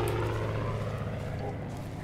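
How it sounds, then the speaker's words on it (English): A steady, droning aircraft engine hums in the Far Cry 5 video game, a continuous low rumble at moderate loudness. "so we have planes in here now"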